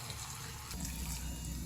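Water pours into a pot of sinigang na pata ng baboy, a soft, steady gushing splash that thickens into a fuller, lower-pitched stream partway through, close by and fairly quiet.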